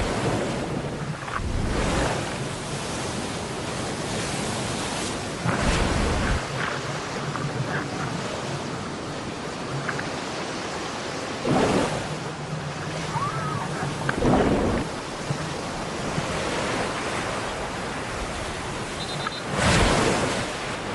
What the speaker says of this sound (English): She's now stuck in the breakers as a series of waves pummel her.